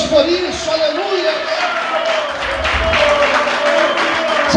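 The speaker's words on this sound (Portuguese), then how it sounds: "Você pode aplaudir o Senhor e exaltar a Deus por isso." A church congregation applauds the Lord during a sermon, with a broad wash of clapping mixed with raised voices and sustained vocal tones over a steady crowd rumble.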